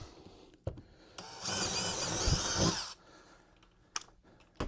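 A power drill whirs steadily for about a second and a half, with short tool clicks and handling knocks before and after, close by.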